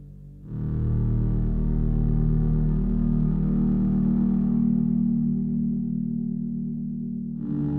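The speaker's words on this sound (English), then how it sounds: "So it's just kind of a big bass sound." A Sequential OB-6 synthesizer playing a big sustained bass tone with baked-in reverb, shaped with the mod wheel, swelling in after a brief pause and droning steadily and loud for several seconds before a new note enters near the end, with no voices.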